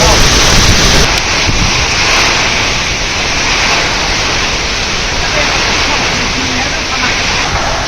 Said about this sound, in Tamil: கள்ளக்குறிச்சி சுற்றுவட்டார பகுதிகளில் சூறாவளி காற்றுடன் பெய்த கனமழை.